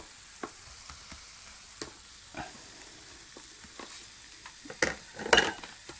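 Tuna being stirred in a frying pan for a farfalle dish with mushrooms and cream: sparse, quiet scrapes and clicks of the utensil against the pan, irregularly spaced, with a few louder knocks toward the end and no talking.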